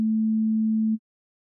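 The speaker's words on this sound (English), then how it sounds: "That's a sine wave." A pure, steady sine tone from an analog synthesizer oscillator holds for about a second alone, then stops abruptly.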